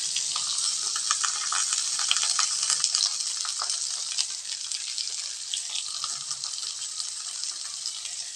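Chopped onion and curry leaves sauté in hot oil in a pan for a broad bean kootu, giving a steady bright crackling hiss with soft stirring scrapes throughout.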